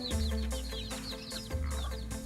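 Jungle fowl chickens cluck and chirp in a pen in Thailand, a close busy mix of short calls over a steady low hum.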